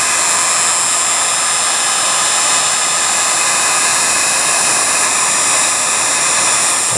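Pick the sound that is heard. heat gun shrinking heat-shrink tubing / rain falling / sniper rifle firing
heat gun shrinking heat-shrink tubing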